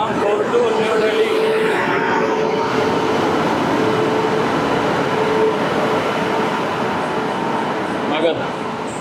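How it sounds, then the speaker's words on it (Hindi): The Magadh Express, Islampur to New Delhi, hauled by a WAP-7 electric locomotive, rolls into a station platform with a steady, heavy rumble and faint rail clatter that fills the whole stretch, loud and close. "चलिए वैसे अराइवल हो चुका है अपना वेब 7 के साथ मगध एक्सप्रेस"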